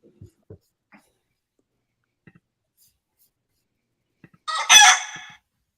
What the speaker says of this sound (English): Did I just hear a chicken?